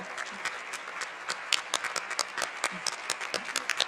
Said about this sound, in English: invite Elda Nogueira to the stage to receive a round of applause